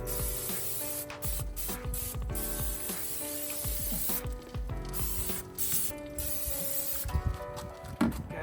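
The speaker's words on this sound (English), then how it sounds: "give it a real quick spray with the cooking spray" Several short bursts of cooking spray hiss from a can onto chicken sliders in a smoker, with faint clicks and handling noises between the sprays, close by.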